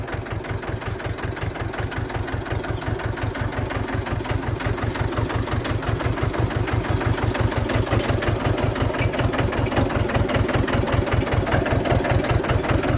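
A tractor engine idles steadily with a low, even chugging pulse, loud and close, running without a break throughout, out in a field for ploughing.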